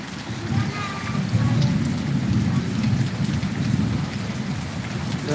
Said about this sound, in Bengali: এই হলো আজকের বৃষ্টির অবস্থা আকাশে মেঘ অনেক জোরে ডাকতেছে